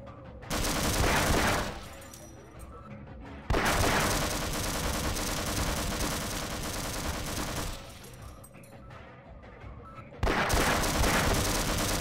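In the video game Half-Life, a turret fires long, dense bursts of rapid gunfire in three loud stretches, with brief quieter gaps between them.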